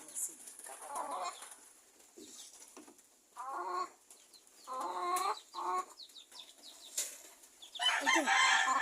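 Chickens cluck and a rooster crows in scattered bursts, moderately loud with a busy outdoor background; a few brief voices may be mixed in.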